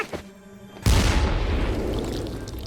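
A grenade explodes with a sudden loud boom after a brief tonal lead-in, followed by a long, roaring rumble that slowly fades.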